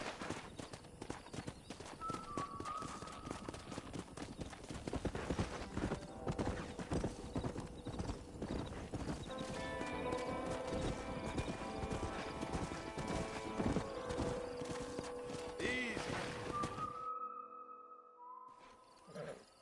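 Horse hooves drum in a fast, continuous galloping clatter in the Red Dead Redemption video game, with a whinny now and then. The hoofbeats carry on steadily and stop near the end, leaving brief quiet.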